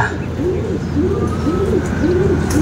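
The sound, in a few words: bird returning home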